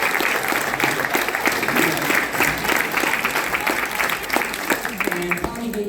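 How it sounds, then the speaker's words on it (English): An audience applauds a hypnosis volunteer at a stage hypnotist's show at the National Guild of Hypnotists, with sustained, full clapping throughout and some voices mixed in. "Would you give her a round of applause?"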